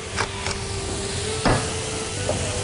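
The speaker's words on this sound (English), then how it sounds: "Listen to that sizzle." Steady loud sizzling hiss of scallops searing in a hot cast iron skillet, with a few brief clinks and scrapes of utensils, close up.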